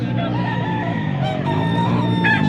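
Stag gamecock roosters crowing at a Philippine market, several overlapping calls over steady crowd murmur and clucking, fairly close and continuous.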